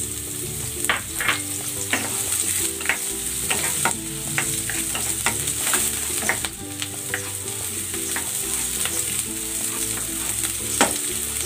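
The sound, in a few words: sautéing ginger and onion in a pan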